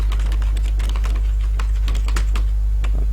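Rapid, uneven keystrokes on a computer keyboard as a product title is typed, crisp close clicks over a constant low electrical hum.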